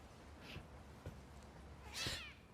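Cat meowing in the video game The Medium: two short, soft meows, the second a little louder and higher, heard quietly over faint background ambience.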